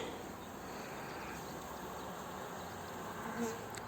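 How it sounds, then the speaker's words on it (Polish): A dense, steady buzz of many restless Buckfast honeybees humming together close by, continuous and unbroken, with no voices. "tu dziwnie pszczoły już podskakiwały"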